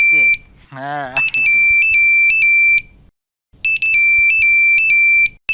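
A mobile phone ringtone rings loudly in a home scene, repeating bursts of bright electronic beeps. There is a brief gap mid-clip, and a short voice is heard near the start.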